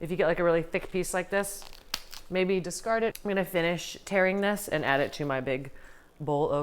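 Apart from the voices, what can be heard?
No everyday noises stand out.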